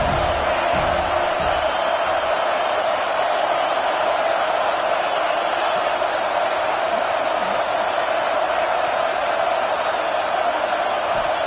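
A college football stadium crowd at Notre Dame versus USC roars steadily on a big third down, a dense, loud, unbroken wall of cheering and whooping.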